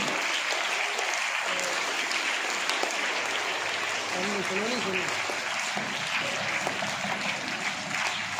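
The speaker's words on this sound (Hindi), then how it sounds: "जोरदार तालियां।" Hearty applause from an audience at a prize ceremony for a student winner of a culture knowledge exam, a dense, sustained clapping wash lasting several seconds while a voice speaks over part of it.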